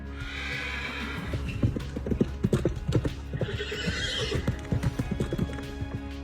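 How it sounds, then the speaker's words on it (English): A horse gallops with rapid, close clip-clopping hoofbeats in an uneven rhythm, breaking into loud neighs and whinnies over the pounding steps. "I shall mount my horse and gallop away."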